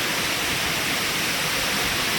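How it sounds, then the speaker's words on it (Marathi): A waterfall dropping from a great height in the Amboli Ghat roars in a loud, dense, unbroken rush that fills the whole clip, with no talk over it. "कितीतरी वरतून आलेला आहे हा वॉटरफॉल"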